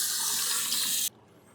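Water runs steadily from a bathroom tap into a sink during a wet shave with a Merkur 34G razor, a loud continuous splashing hiss that cuts off abruptly near the end, leaving only faint room tone.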